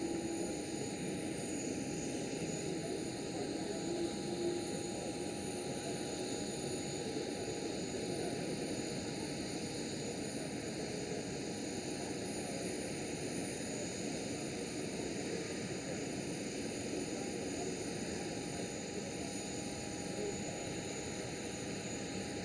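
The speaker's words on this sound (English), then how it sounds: "There goes the KLM Dreamliner." A KLM Boeing 787 Dreamliner jet passes at Schiphol Airport, giving a continuous, even engine rumble and hiss that holds steady throughout at moderate distance.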